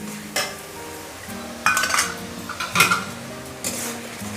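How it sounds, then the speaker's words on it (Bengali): Spice paste (masala) being stirred and fried in a pan for a fish-head curry, with soft frying underneath and a few sharp metallic clinks and scrapes of a spoon against the pan at irregular moments, no talk. "ভালো করে নাড়িয়ে দেব আর মশলাটাকে 3 থেকে 4 মিনিট ভালো করে কষিয়ে নেব"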